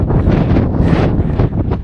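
Strong mountain wind on Mount Isolation, New Hampshire, roars and buffets the microphone continuously, a loud rumbling gusty noise with no other sounds.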